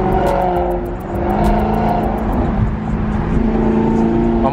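A Dodge Scat Pack's engine revs loudly and close by, a steady throaty roar that dips briefly and then swells again, heard on its own without talk.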